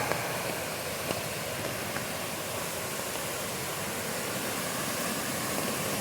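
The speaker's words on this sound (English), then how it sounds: "That's rushing water." A rushing mountain stream on a rainy trail in the Great Smoky Mountains makes a steady, loud, unbroken roar of water that stays even throughout.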